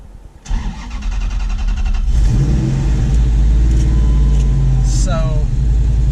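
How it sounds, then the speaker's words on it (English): A car engine cranks and starts, then settles into a loud, close, steady roar with rising revs as it builds toward a rolling burnout, with a brief voice near the end. "Since we're wanting to do a rolling burnout"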